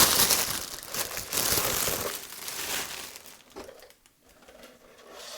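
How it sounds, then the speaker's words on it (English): Close, crackly rustling and crinkling of a plastic bag as an RC airplane part is unpacked, loud at first then tapering off with brief pauses, no voices. "So let's take this out of the plastic bag."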